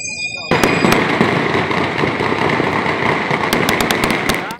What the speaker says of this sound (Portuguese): O intenso tiroteio fechou as principais vias expressas da cidade.